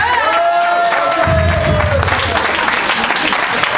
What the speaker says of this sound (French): On applaudit Thierry.